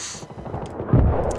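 A grenade blast in the Xbox 360 game Battlefield 3 multiplayer lands as a sudden deep thump amid a brief burst of gunfire-like crackle.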